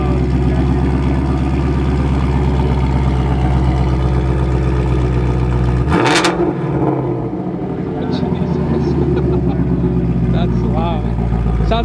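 A 2019 Mustang Shelby GT350R engine roars steadily at idle, then snaps into a sharp exhaust rev around the middle before settling back to a heavy rumble, with voices talking over it.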